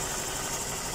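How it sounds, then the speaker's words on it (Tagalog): A motorcycle engine idles quietly and smoothly after a crankshaft replacement, a steady even hum held close and alone for the whole second with no talk over it. "Ang tahimik na ulit ng makina."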